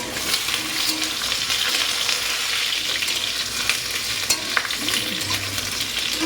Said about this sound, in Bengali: আলুগুলোকে আগে ভালো করে ভেজে নিচ্ছি